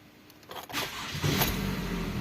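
A Toyota Camry with a noisy engine is started, the starter cranking briefly before the engine catches and settles into a steady, loud idle.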